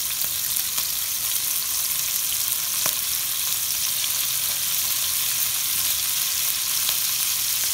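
Okra and tomatoes frying in a hot pan, a steady, dense sizzle with scattered crisp pops, loud and close and continuing without a break and without talk.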